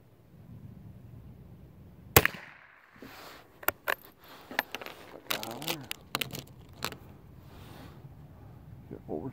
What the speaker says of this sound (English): I'm going to shoot 5 shots at the little steel targets down there